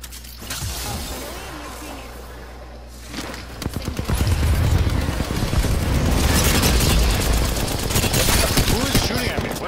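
Gunfire in Apex Legends starts as scattered shots under game noise, then swells into heavy sustained automatic fire mixed with booming impacts, loud and near for the remaining seconds.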